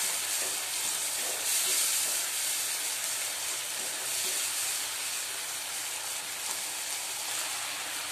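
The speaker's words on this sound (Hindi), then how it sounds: "अब इन सबको मिक्स करके 1 मिनट के लिए हम भून लेंगे।" Spice masala with salt, turmeric and chili powder fries in a pan, giving a continuous close hissing sizzle that holds steady throughout without speech.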